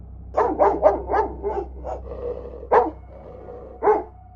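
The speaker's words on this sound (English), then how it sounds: "we heard the dog barking downstairs" A dog barks in a quick burst of five or six loud, close woofs, then pauses and gives two more single barks over a low steady hum, with no talking.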